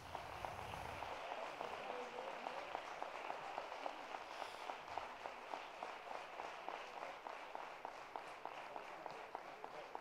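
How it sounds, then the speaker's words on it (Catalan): Sustained rhythmic applause from an audience at a Falles exaltation ceremony in Albalat dels Sorells, honoring the festival's 2019 representatives, heard as fairly faint, even clapping that carries on for about ten seconds. "Un aplaudiment, per favor."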